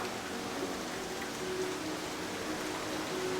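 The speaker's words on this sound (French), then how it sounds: "le retour de la pluie" Steady rain falls in Kyoto during the rainy season, an even, continuous hiss of drops on surfaces at moderate volume with no voices.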